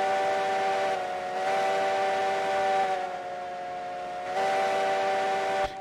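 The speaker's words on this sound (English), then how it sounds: "We bought an engine for up here and it's got a whistle" A long, steady steam locomotive whistle in the video game Railroads Online blows continuously for several seconds, its pitch and loudness shifting slightly, loud and alone without voices.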